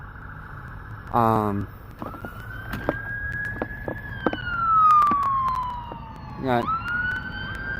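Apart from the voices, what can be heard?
ambulance siren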